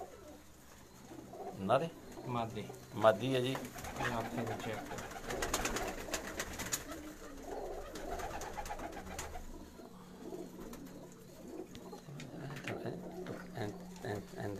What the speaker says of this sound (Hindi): टैडी कबूतर है जी